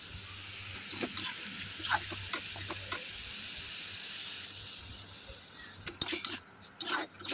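Green jackfruit curry sautéing in a pan, a low steady sizzle under scattered sharp scraping and clinking of a stirring spoon in short bursts, with a faint hum beneath.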